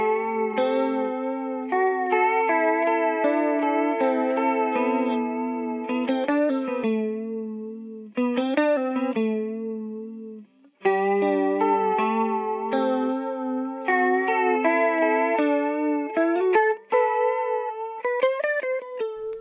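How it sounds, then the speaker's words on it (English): An electric guitar played out of tune through a stereo chorus pedal, giving wavering, shimmering sustained notes and chords close up. It plays continuously for about twenty seconds, with short breaks near eight and eleven seconds and no voices. "It's being pulled so far out of tune by the chorus pedal that it doesn't matter as much."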